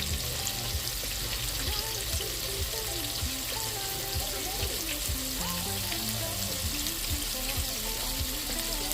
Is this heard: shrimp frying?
yes